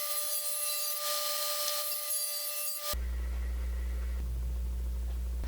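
Table saw ripping a 1x4 wood board: a steady high-pitched cutting whine for about three seconds, then the blade spinning down into a lower motor hum, loud and close, with no voices.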